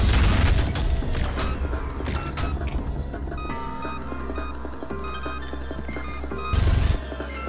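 A Gatling gun fires in the video game ULTRAKILL, a loud, dense mechanical roar of rapid shots over a thick game soundscape, with a heavy booming burst near the end.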